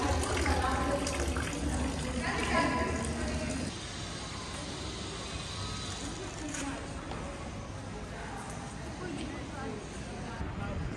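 A public water fountain in Basel splashes and gushes continuously outdoors, a steady wash of falling water that drops slightly in level partway through, with people talking over it.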